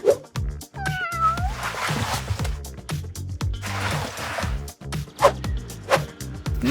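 A cat meows several times in short, strained cries, close and fairly loud, amid rustling and handling noises.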